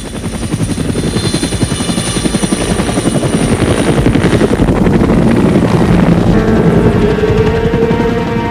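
A military helicopter over Vietnam's jungle thunders close and loud, its rotor blades chopping in a rapid steady beat beneath a continuous engine whine.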